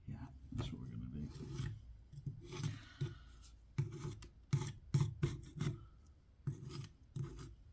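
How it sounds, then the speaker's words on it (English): Dirt is scraped off the top of a vacuum pump in repeated rough, gritty strokes, close and irregular, with short pauses between passes. "I might just scrape initially the stuff off the top."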